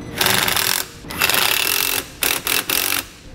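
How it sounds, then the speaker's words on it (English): A power drill drives a pair of self-tapping screws into a metal base plate behind a 2017 Lincoln MKX bumper, giving several close, loud bursts of whirring with short pauses between them. "So I'm going to take a couple self-tapping screws and put them in place right here"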